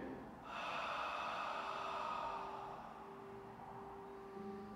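A single long, audible exhale during an abdominal and back exercise class, a breathy rush that starts abruptly and tapers off slowly, close to the listener with no talk over it.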